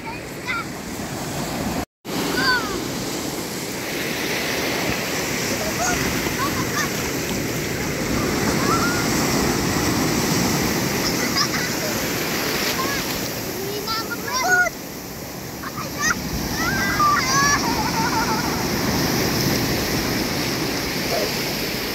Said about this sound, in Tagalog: Oh, laki ng alon.